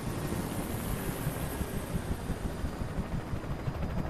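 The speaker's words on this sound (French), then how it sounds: "j'entends une hélico" A continuous low rotor-like rumble with a rapid throbbing pulse of a helicopter in the video game Alan Wake, steady and somewhat distant, no talking.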